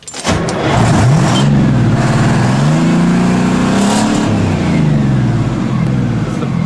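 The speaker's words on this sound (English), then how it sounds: "There's no other sound in the country like the sound of the 14-litre V12" A 14-litre V12 diesel engine in an oversize truck revs loud and close, its pitch climbing and falling through several sweeps with a deep, sustained roar throughout.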